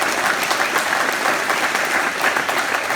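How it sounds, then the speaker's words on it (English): A campaign event crowd applauds steadily, a dense, loud wash of many hands clapping continuously without a break, with no clear speech standing out. "Just give Mike another round of applause."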